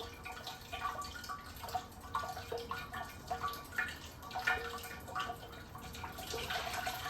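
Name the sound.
coolant draining from Land Rover Discovery 2 cooling system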